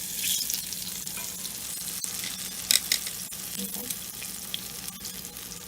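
Crispy spicy tofu nuggets fry in hot oil with a continuous close sizzle and bubbling, broken by occasional clinks and scrapes. A voice murmurs briefly over the frying.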